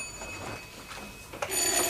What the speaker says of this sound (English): Don't answer that phone.